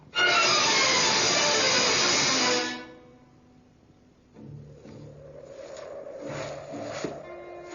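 A loud, rushing rumble of a moving train fills the first few seconds, then fades away, leaving quieter background noise.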